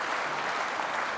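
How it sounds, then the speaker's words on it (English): Dense applause from an audience at a science lecture, a steady wash of many hands clapping that holds at an even level through the whole short moment, with no voices over it. "But no, you shouldn't applaud"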